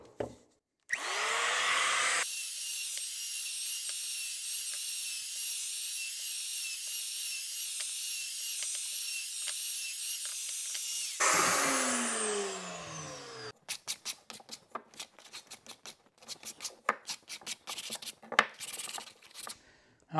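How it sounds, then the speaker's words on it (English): An electric router shapes the edges of a treated wooden 4x4 post, a loud whining motor spinning up and holding a steady high pitch, then winding down, followed by a string of sharp bursts as the bit bites into the wood. "I'm going to use my router real quick here because I like them to look a little nicer"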